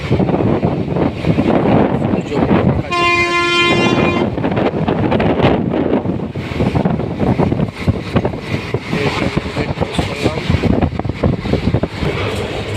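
A nearly empty passenger train runs through farmland near Daulatpur in the early morning, a loud close rumble with wind buffeting and a sustained horn blast partway through.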